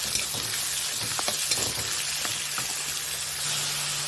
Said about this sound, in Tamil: இப்போ நம்ம வெட்டி வச்சுருக்க வெங்காயம், பச்சை மிளகாய், பூண்டு சேர்த்துடலாம். இதை நல்லா பொன்னிறமாக வர வரைக்கும் வதக்கிட்டோம்.